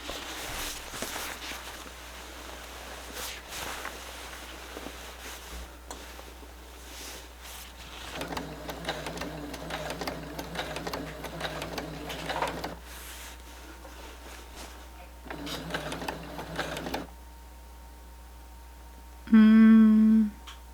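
Sewing machine stitching a quilted fall table runner, running in several short bursts with quiet gaps between them, ending in a brief louder mechanical whir.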